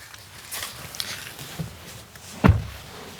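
Rear door of a 2025 Hyundai Bayon small SUV opening: a single solid clunk near the end, preceded by faint clicks and soft rustling in a quiet setting.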